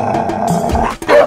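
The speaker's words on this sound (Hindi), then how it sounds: "भौंकते वाले कुत्ते नहीं काटते।" A dog gives a few short, close barks and growls over a busy background.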